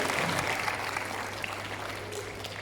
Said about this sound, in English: Let us welcome our Grandmaster Jet Li. Make a clap for him.